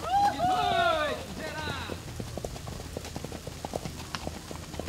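Mangalarga Marchador horse hooves clopping on a muddy trail with uphill and downhill stretches, a steady run of close, sharp clip-clop beats after a loud opening burst of voices.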